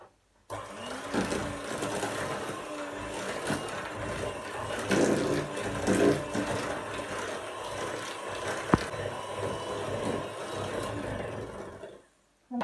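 An electric mixer whirs continuously for about eleven seconds, beating butter and sugar for a cake, starting and stopping abruptly, loud and close, with faint clinks against the bowl and no talking.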